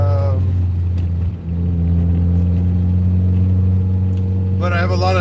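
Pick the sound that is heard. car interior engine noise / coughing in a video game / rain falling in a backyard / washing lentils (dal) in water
car interior engine noise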